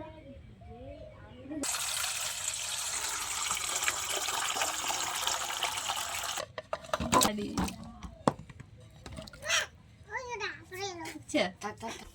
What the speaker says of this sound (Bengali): আমগুলিকে ধুয়ে ভালো করে তুলে নেব